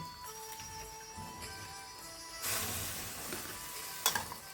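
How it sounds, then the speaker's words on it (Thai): Three vegetables are stir-fried together in a hot pan, with a soft background sizzle that rises into a louder burst halfway through, then a sharp scrape or clatter near the end. "นี่กำลังผัดอยู่จ้า เรามีสามผักนะคะรวมกันนะคะ ผัดลงไปเลย"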